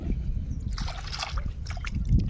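Water drains away through rat holes in a farm field, a close trickling and sloshing gurgle that runs steadily for a couple of seconds with no talk.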